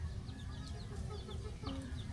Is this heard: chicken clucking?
yes